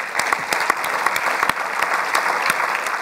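Sustained audience applause fills the hall at a French public talk on ecology, dense clapping with sharp individual claps standing out, loud and steady throughout.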